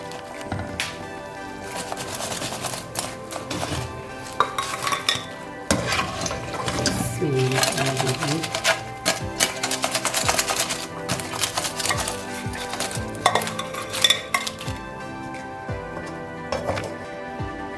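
Fried potato roll samosas being plated, with dishes and cutlery handled: frequent close clinks, taps and scrapes in an irregular rhythm over steady kitchen background.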